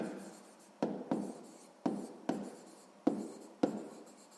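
Pen writing on paper in a school notebook, six soft scratchy strokes in pairs, close and quiet with no talk.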